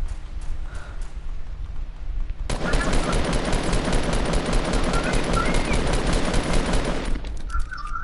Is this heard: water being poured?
no